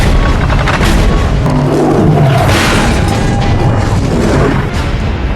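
Heavy naval cannon fire from a massive six-barrel deck gun on a warship, a dense, loud roar of booming blasts sustained throughout with no pauses.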